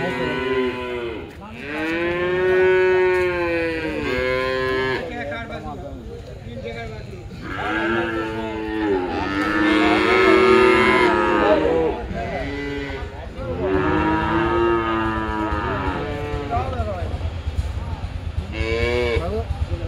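Cattle moo repeatedly in long, loud, drawn-out calls at a cattle market, several animals overlapping close by, with people talking underneath.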